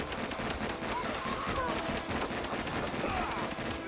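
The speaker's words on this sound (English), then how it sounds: "Got a guy dropping mortars here." Video game combat set in Kiev, Ukraine, with an enemy dropping mortars: dense repeated bursts of gunfire and explosive thumps fill the whole stretch at a constant loud level, with game music layered underneath.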